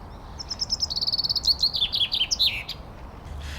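A bird in the room chirps a rapid, bright series of tweets, quickening into a trilling run of high notes before falling quiet, loud and close with no talk over it.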